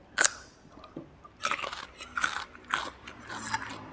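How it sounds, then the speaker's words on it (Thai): Chicken green curry with eggplant, eaten with rice noodles: close, crisp crunchy bites and chewing in several separate bursts, with quiet gaps between them. "มากินกันเลยค่ะ แกงเขียวหวานไก่"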